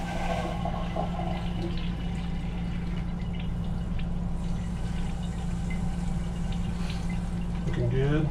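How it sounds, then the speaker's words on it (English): A Dometic 320 toilet in an RV flushes with steady running water and a low hum throughout, with faint bits of a person's voice in the background. "Let's try the flusher."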